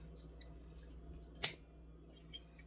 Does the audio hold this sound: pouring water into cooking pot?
no